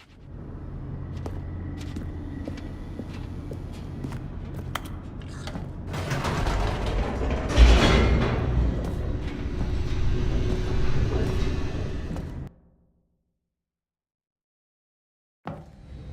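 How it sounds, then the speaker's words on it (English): An elevator descending in The Stanley Parable, a rumbling mechanical run with creaks and rattles that grows harsher midway, then stops dead into silence before a brief final clunk. "The elevator raced downward,"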